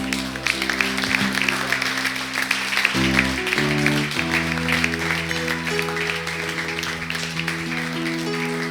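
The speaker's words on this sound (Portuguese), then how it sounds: "Você pode aplaudir o Senhor?" A church congregation applauds during a Bible study service, sustained clapping over steady sustained organ or keyboard chords with shifting pitches underneath.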